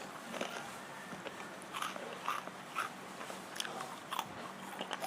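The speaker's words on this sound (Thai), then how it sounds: "ก็เคี้ยวระวังอยู่นะคะ เพราะว่าจัดฟันมา เคี้ยวแรงมากไม่ได้" A person with braces bites and chews food carefully, giving repeated close crunches at an uneven pace with no talking.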